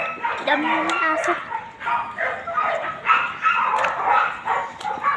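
A crowd of dogs barks and yips outdoors near acacia trees, constant overlapping barking with occasional whines, while a person talks through the noise.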